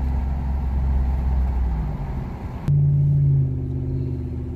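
Chevrolet Silverado fitted with a Carven exhaust and aFe intake at half throttle, a steady rumbling engine drone that shifts abruptly midway to a louder, higher note, then settles into a sustained exhaust tone.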